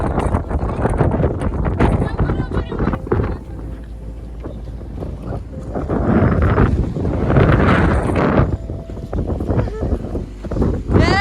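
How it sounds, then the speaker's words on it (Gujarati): Strong gusty wind buffets the microphone with a low roaring rumble, swelling and easing while people talk over it. "પવન બી છે કે દરિયામાંથી પવન આવી રહ્યો છે."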